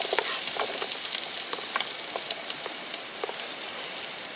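Onions and garlic frying in a couple of teaspoons of olive oil on a Trangia camping stove, a steady close crackling sizzle with scattered pops and spits throughout.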